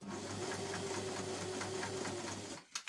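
A sewing machine stitches a reusable snack bag, running in a steady fast whirring drone with a rhythmic needle patter, then stopping with a few clunks at the end.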